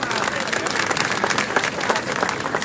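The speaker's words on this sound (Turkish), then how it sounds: "bu güzel gösterileri için alkışlarınıza bir kez daha teşekkür ediyorum" A ceremony audience applauds a municipal conservatory folk dance troupe after their performance at a city liberation anniversary event, sustained crowd clapping with a slight swell and fade, a voice faintly audible underneath.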